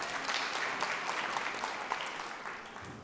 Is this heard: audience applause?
yes